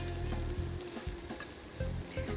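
Eggplant fries in a generous amount of hot oil in a pan, giving a dense, continuous close sizzle broken by soft scraping stirs.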